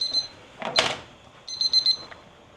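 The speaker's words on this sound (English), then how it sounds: "that was my timer on that for 1 hour" Kitchen timer going off in a home kitchen while rice cooks for beef tips: two short bursts of high electronic beeping, the first near 0.1 s and a rapid repeated chirp around 1.5–2 s, with a brief clatter between, no talk.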